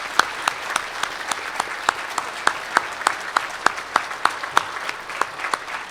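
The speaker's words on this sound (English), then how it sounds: "how about another round of applause for Mr." Applause at a summit session, with sharp distinct claps standing out over a steady bed of clapping from a moderate crowd, lasting several seconds.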